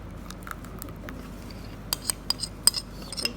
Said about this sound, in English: I'm going to be converting the sauce into this other bowl I have over here.